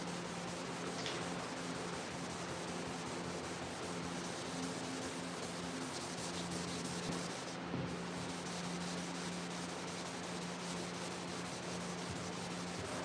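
Hand scuff sanding on a 1987 C30 cowl hood gives a steady, continuous rough rubbing hiss at close range, with a faint hum underneath and no voices.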